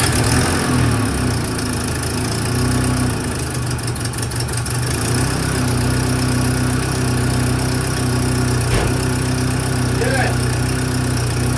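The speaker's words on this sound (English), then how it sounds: "It's cold. It's a cold start." A Cabriolet project car's engine idles steadily right after a cold start, a loud close drone with rapid pulsing, and a voice briefly cuts in over it.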